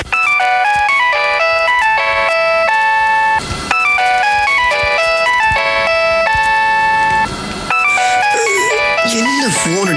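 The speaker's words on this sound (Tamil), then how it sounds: "என்ன ஃபோன் ரிங் போய்கிட்டே இருக்கு" A telephone ringing in a Tamil radio drama, a loud, continuous electronic ringtone melody repeating steadily with brief gaps, filling the scene at close range.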